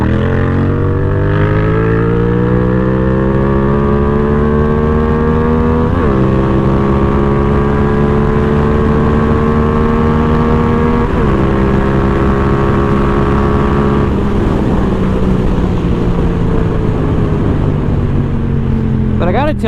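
A Yamaha XSR 700 motorcycle accelerates hard on a freeway in a 0 to 100 run, its engine note climbing steadily through several gears with brief dips at each shift, loud and close under constant wind roar.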